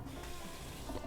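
Hot and cold water tap running steadily in a house, a continuous close rushing stream with no talk.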